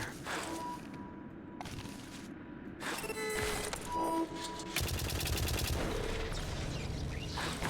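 Turrets in the White Knuckle video game rattling off rapid automatic bursts, starting in short volleys and then building into a dense, continuous clatter of gunfire in the second half, fairly close and loud.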